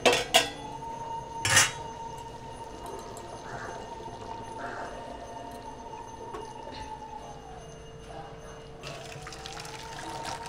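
A metal cooking pot clanks sharply a couple of times as it comes off the stove after an egg curry with taro, then a faint steady hum and soft kitchen noises follow.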